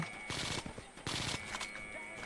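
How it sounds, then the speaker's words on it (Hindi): Gunfire in the video game Project IGI 2 comes as two or three bursts of rapid automatic shots, moderately loud over a steady hissing background, with no talking. "स्नाइपर वाला भी सामने शॉट्स चला रहा है"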